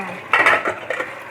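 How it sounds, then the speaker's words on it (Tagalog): A cooking pot being scrubbed and rinsed at a sink, with close metallic scraping and clanking in a few short bursts separated by quieter gaps, and no speech. "Linisin ang kaldero."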